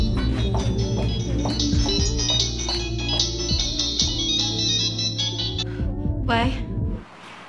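A phone rings out during an outgoing call in a drama scene, a repeating electronic tone layered over a dramatic music score that cuts off near the end.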